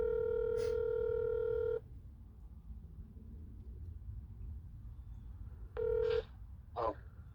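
Telephone dialing tones as a call is placed to a mechanic about transmission fluid found in a car radiator: one long steady tone, a quiet pause, then two short tones close by, with no talking.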